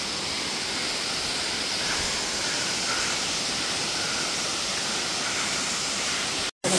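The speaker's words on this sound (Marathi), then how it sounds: "हे धबधब्याचं नाव मुनावळे धबधबा" Munavale waterfall near Mahabaleshwar rushes in a steady, dense roar of falling water, loud and unbroken, with no voices, cutting off abruptly at the very end.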